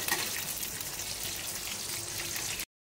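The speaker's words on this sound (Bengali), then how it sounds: "প্রথমে আমি বেগুনটা দিয়ে দিচ্ছি কড়াইয়ের মধ্যে। বেগুনগুলো একটু হালকা করে ভেজে নেব।" Brinjal (eggplant) slices frying in hot oil in a wok for a vegetarian thali, giving a steady, dense sizzle that holds level for about two and a half seconds before cutting off abruptly.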